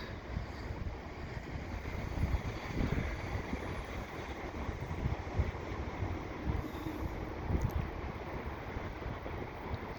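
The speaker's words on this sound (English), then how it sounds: "I got a CP train heading" CP tanker local train hauled by GP38-2 locomotives rolling past at Dorval, Montreal, on a wet winter day, a continuous rumbling clatter of railcars with wind noise over the microphone.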